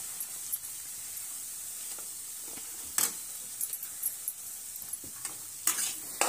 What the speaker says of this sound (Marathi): फक्त त्याचा कच्चा पण घालवून फक्त भाजून रवा घ्यायचा आहे आपल्याला